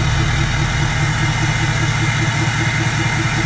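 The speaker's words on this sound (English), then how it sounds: "I'll give you guys a startup before the tune." A deep, rumbling 6.7 Powerstroke diesel pickup engine with a 5-inch straight pipe idles steadily and loudly, with a constant low throb and no change in pace.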